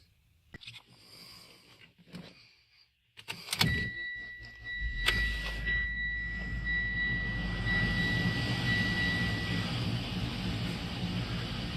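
A 2015 Mitsubishi Evo X GSR engine with fresh spark plugs cranks over after a few clicks and catches, settling into a steady, loud idle with a thin whine running along it.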